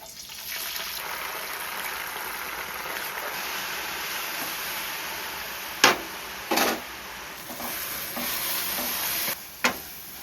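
Washed gongura leaves frying in hot oil give a steady bubbling sizzle, close and even, with several sharp scraping stir strokes toward the end and no talking.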